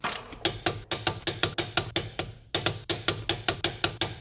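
An impact gun runs up the wheel bearing bolts on a 2003 Toyota Corolla: loud, close, evenly spaced mechanical bursts, about four or five a second, with one brief pause partway through.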